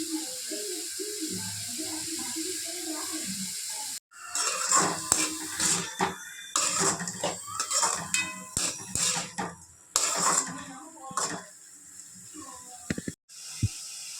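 Drumsticks and carrots being stirred in a pan, with metallic scrapes and clinks of a utensil in uneven bursts after a quieter opening, close by and moderately loud.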